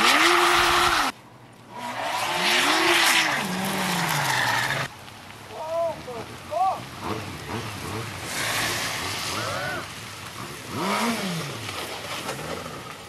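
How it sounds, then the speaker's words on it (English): A car on a slippery road spinning a full 360 as its back wheel slides out: loud engine roar and tyre squeal, then wavering, whining skid tones fading in and out over about thirteen seconds. "He just did a 360, yeah? I just saw his back wheel come out."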